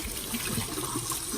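Cold tap water runs steadily over a raw turkey as it is washed in a kitchen sink, a close, even splashing trickle with no speech.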